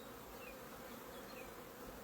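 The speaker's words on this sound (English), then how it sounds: "Let's squish the least amount of bees possible." Honeybees buzzing around a hive observation frame, a soft continuous drone of many wings, steady and fairly faint, with no talking.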